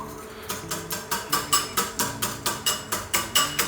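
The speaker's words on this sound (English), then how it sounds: "Now we're just going to whisk this up nicely" Egg wash with brown sugar being whisked in a bowl for baked char siu bao: quick, even strokes of the whisk clicking against the bowl, about four per second, close and steady with no talk.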